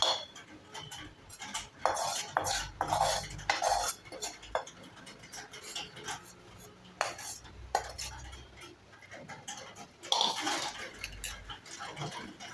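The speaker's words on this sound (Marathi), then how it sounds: "आता या ताटात मी सगळं सारण काढून घेते" Coconut barfi mixture scraped with a spoon out of a pan onto a ghee-greased plate, irregular metallic scrapes and clinks of utensil on metal, close, with no talking.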